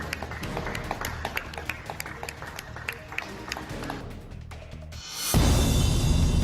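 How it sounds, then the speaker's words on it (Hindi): Scattered hand claps ring out as UK Prime Minister Boris Johnson and others applaud medical staff outside his office in London, with sharp claps over street noise before a sudden burst of louder broadband noise. "ब्रिटेन के पीएम ने स्वास्थ्य कर्मचारियों के लिए तालियां बजाई"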